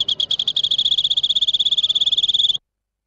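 A voice imitates birds chirping with a rapid, steady trill of high, even pulses for about two and a half seconds, then stops abruptly into silence.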